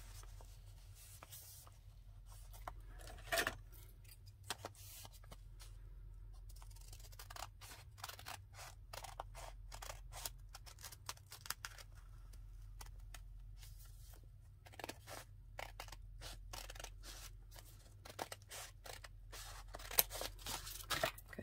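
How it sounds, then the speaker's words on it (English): Scissors cut through folded paper in a run of quick, crisp snips and rustles, close and quiet over a low background hum, with short pauses between bursts. "Just gonna fold it like this and put them together and just cut them."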